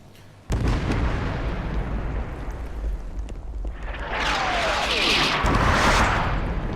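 Artillery fire and explosions in the game Fallout 4: a sudden loud boom opens a long rumbling barrage, with further blasts and crackling bursts swelling and roaring toward the end.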